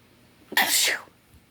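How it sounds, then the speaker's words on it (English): One sudden, breathy sneeze, close and fairly loud, with a quick intake before it and then quiet. "I have to sneeze."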